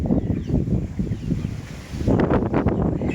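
Strong gusty wind buffets the microphone outdoors, a low rumbling roar that surges and eases in uneven waves, growing louder toward the end.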